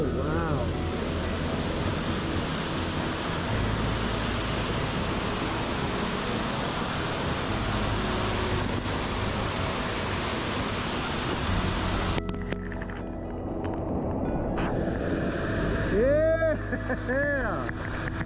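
Falls Creek Falls in Washington pours in a steady, dense roar of rushing water close by, filling most of the stretch before the sound drops away and excited voices and shouts break out near the end.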